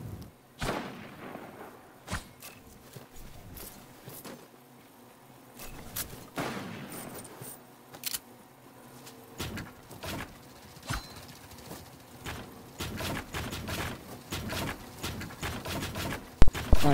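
Gunfire from a mountain in a video game rings out as scattered sharp shots and short bursts, some near and loud, others fainter, with quieter gaps between them.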